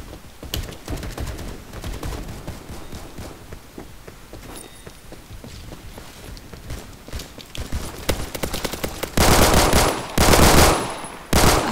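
Automatic pistol fire in the Roblox shooter Phantom Forces comes as rapid, close bursts of shots, growing denser and louder toward the end, with scattered single cracks between volleys.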